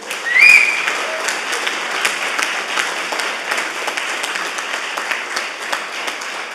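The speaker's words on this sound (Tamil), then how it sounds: "கைத்தட்டுங்க அவருக்கு." An audience applauds with steady, dense clapping that holds at an even level for several seconds before easing slightly, during a speech at an annual meeting.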